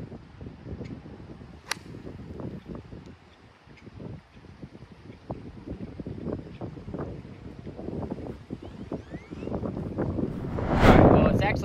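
Wind blows across an open golf course, a steady rough buffeting rumble that swells and gusts louder near the end, with faint scattered bumps and no clear talk.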